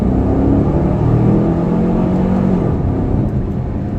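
A 2015 Chevrolet Camaro convertible pulls hard in second gear, its engine droning in a steady low, rising tone with road and wind whir, heard from inside the car with no talking.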